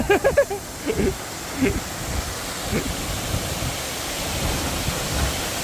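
Tad Yueang waterfall in southern Laos roars as a steady, loud wash of falling water near the base of the falls, with a few brief voices early on.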